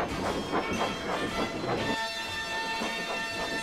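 A train rolls along rails with rhythmic clickety-clack beats that fade out midway, leaving a quieter hiss as it nears a station.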